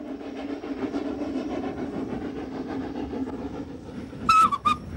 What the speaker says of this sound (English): It is the only public rack and pinion railway in Britain.